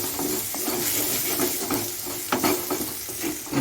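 A pan of dry prawn filling for Tibetan momos is stirred after coriander leaves go in: a continuous close sizzle and hiss, with the spatula scraping and rattling against the pan throughout.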